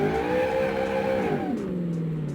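A simulated car engine in the game Automation cranks and catches, settling into a steady droning idle with a harmonic hum that drops in pitch as the revs fall; close and fairly loud, no talking.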